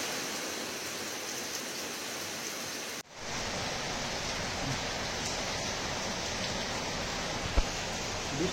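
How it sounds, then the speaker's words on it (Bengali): Heavy monsoon rain pours down and runs off a rooftop, a steady dense hiss that briefly drops out for an instant before resuming just as strong. "বৃষ্টি বেশ ভালোই হচ্ছে"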